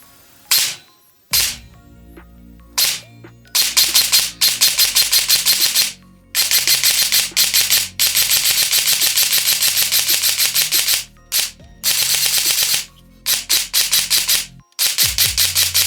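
An E&C SMR 16 airsoft rifle with a standard torque motor fires loud, rapid full-auto bursts of cracking shots, several long strings broken by short pauses and a few single shots, close by with no talk.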